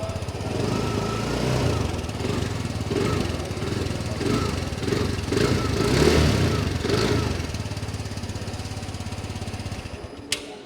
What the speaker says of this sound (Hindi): इसकी जो एग्जॉस्ट साउंड है वो भी यहाँ पर सुना देता हूँ